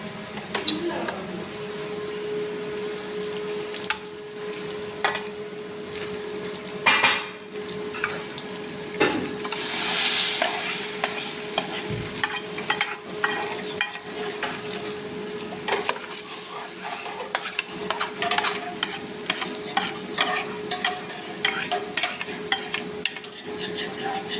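Kootu curry being stirred and mixed in a pan with roasted coconut, faint scraping of a spoon against the pan and a low background sizzle, with intermittent clatters, no talk.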